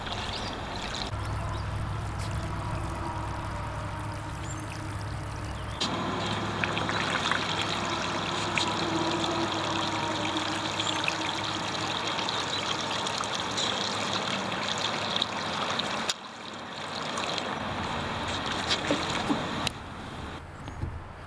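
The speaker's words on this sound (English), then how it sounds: "I'm going to let the spool ride right in the water as I" Fishing line feeds off a spool sitting in a 5-gallon bucket of water while being wound onto a baitcasting reel, making a steady watery trickle and hiss that runs throughout, with brief breaks and no talk.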